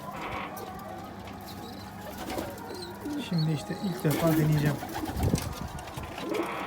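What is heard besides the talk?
pet pigeons cooing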